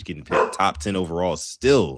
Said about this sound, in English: Sorry if you guys can hear my dog in the background